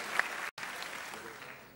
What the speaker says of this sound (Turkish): Bir alkışlattık.